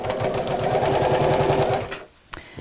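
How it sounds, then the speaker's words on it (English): A sewing machine runs a steady, rapid stitch across a folded quarter-inch double hem at the top of a drawstring beach bag, close and loud for about two seconds before stopping, with a faint click afterward. "I'm simply going to fold over by about 1/4 inch twice, and then sew straight across to make that nice and neat across the top."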